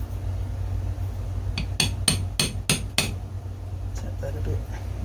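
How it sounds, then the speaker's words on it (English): A hammer taps the edge of a seal on an ASW go kart during renovation: about six sharp, close metallic strikes in a quick run, over a steady low background hum. "I'm hammering on the edge, like that"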